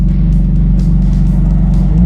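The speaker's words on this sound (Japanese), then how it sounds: "前のチャージャーの人も吹かしてるんだよね" A Dodge Charger's engine roars in a loud, sustained deep rumble nearby on the road, holding a steady revving drone without a break.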